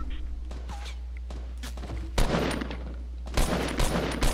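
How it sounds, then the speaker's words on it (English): Bursts of rapid Fortnite video game gunfire crackle intermittently, growing denser toward the end, over a low steady hum, with no talking. "There is a gunfire. There's a gunfire."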